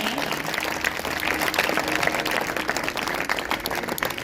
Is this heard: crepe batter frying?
no